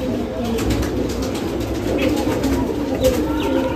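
Pigeons in a loft of around fifteen birds coo in low, steady rolling calls, fairly close and continuous, with faint murmuring voices at times beneath them.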